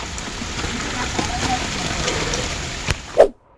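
Soft, steady rain patters through forest trees on the Karnala trek, a gentle close hiss with a brief louder knock near the end before everything falls silent.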